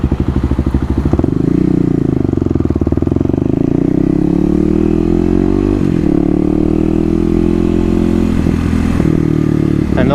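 A 2018 Kawasaki KLX250 dual-sport motorcycle fitted with an aftermarket slip-on muffler accelerates hard, its loud, buzzy single-cylinder engine note rising and holding close to the microphone with gear changes and wind rumble.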